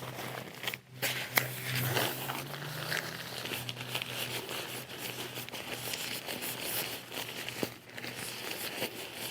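Synthetic-insulated sleeping bag with Stratos fill, folded into thirds and rolled up tight, giving close, continuous crinkling and rustling of fabric with a few sharper rustles, no talking over it.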